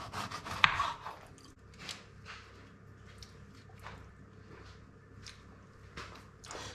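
A knife saws through cooled tea rusk bread into half-centimetre slices, with repeated soft scraping strokes roughly once a second, close and fairly quiet.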